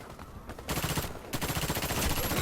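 Gunshots in the shooter game Warface: quick bursts of automatic fire starting faint and swelling into a steady, close rattle with brief pauses between volleys.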